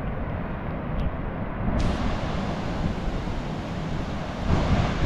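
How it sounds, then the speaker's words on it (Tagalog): Loud, steady roar of heavy ocean surf churning close by during a rainy storm, with gusty wind buffeting the microphone throughout. "Laki ng laot, ang laki ng alon, umuulan kasi, bagyo ngayon"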